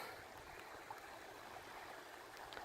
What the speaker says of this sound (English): it's a nice long stream in through here